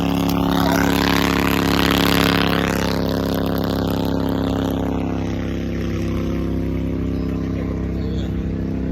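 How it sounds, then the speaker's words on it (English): A powerful boat engine roars close by with a steady droning hum, then slowly fades as it pulls away. "A big old jet boat."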